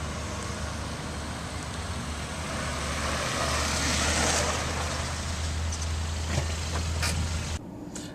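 A 2012 Kia Rio 5-door idles and rolls slowly into a tight parking spot, a steady low engine hum with broadband road and wind noise that swells midway and drops off abruptly near the end.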